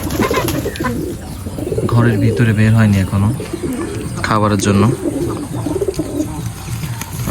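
Native deshi pigeons coo repeatedly in soft, rolling calls nearby, interleaved with someone speaking.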